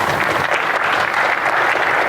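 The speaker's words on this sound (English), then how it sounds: "What, no claps for that?" An audience at a tech conference talk claps loudly and steadily in a continuous round of applause, close and full, with no voices over it.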